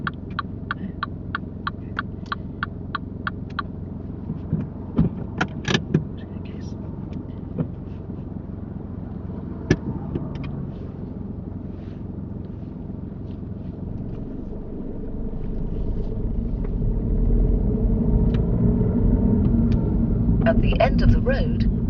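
A car pulls away and drives on during a UK driving test, its engine rumble and road noise rising steadily toward the end, with a few faint ticking clicks early on.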